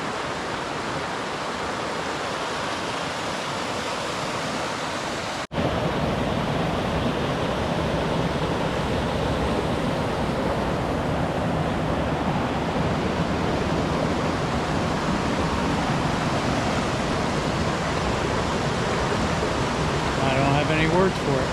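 Bee Gum Creek flowing along a lakeshore trail, a continuous rushing wash of water, loud and close, steady throughout with a brief dip near the start.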